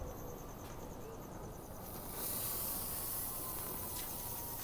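Steak sears on a grill's infrared sear burner heated to about 900 degrees, giving a steady faint sizzling hiss that swells louder about halfway through and continues to the end.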